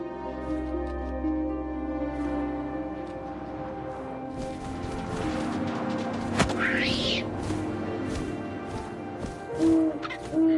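An owl hoots in the video game What Remains of Edith Finch, clear repeated calls over wind and a soft ambient music bed.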